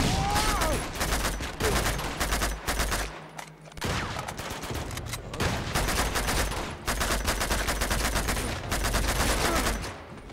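Gunfire in the video game Uncharted 2: Among Thieves, with repeated loud bursts of rapid shots broken by brief pauses, a sustained firefight throughout.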